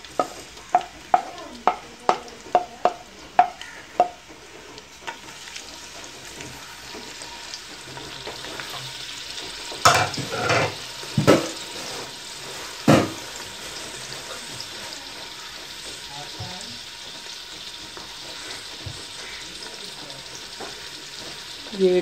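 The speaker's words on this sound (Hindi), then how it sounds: "ऑयल गर्म हो जाए तो इसमें हम लोग ये दो अदद प्याज लहसुन अदरक ये शामिल किया।" Onions, garlic and ginger are stirred in hot oil for a mutton dish, a steady sizzle and frying hiss with a quick series of sharp clattering spoon strikes early on and a few louder scrapes later.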